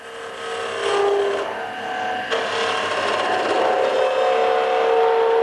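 Round nose scraper cutting a cove into spinning wood on a lathe, a continuous loud rasping scrape with shifting pitch that roughens as the cut progresses, close up with no talking.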